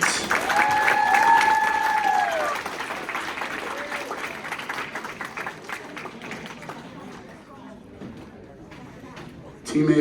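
Crowd applause for a team at a math tournament, loud and dense at the start, then thinning to scattered claps and chatter, with a short burst of noise at the very end.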